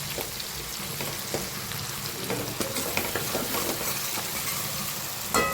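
Lapsi being stirred and mixed in a hot pan, a continuous close sizzle with scattered scraping and tapping strokes from the spoon, no voices.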